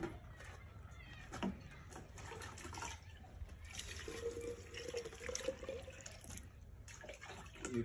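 Water trickles and splashes into a jar holding a soil sample outdoors, a faint, steady pouring with small drips and some background noise, without clear speech.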